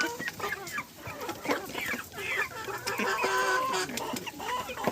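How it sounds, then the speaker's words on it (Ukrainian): Young Cochin hens and roosters cluck and chatter continuously at close range, several birds overlapping in a busy, steady stream of calls. "Кохінхінчиків тут два півники і, здається, дві тільки курочки із кухінхінчиків"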